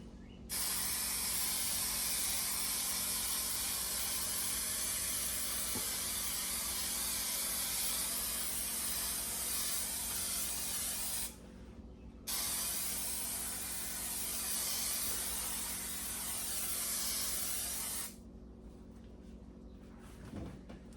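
A long, steady aerosol spray hisses loudly and close inside a 1972 VW Super Beetle during headliner and carpet padding installation, broken by two brief pauses before spraying resumes.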